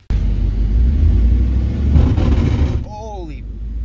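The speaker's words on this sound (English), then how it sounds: "You're gonna laugh when you hear the freaking rear end clunking." Dodge Dakota with a damaged rear differential running loud and close, a heavy low engine rumble with uneven clunking in the drivetrain, briefly dropping in level near the end.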